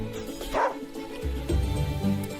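A dog from the Wargroove video game lets out a couple of short barks and yips, close and clear, over a layer of tonal game music.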